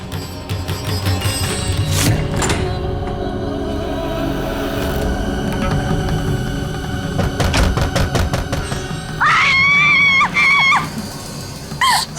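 A woman screams in fear during a spooky scene in an Indian TV drama about a ghost; a loud, wavering high scream rises near the end over a busy, noisy background with thumps and clatter.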